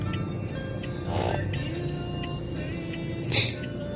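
A tricycle rumbles past outdoors with steady engine drone, a brief louder swell near the end, faint distant voices underneath.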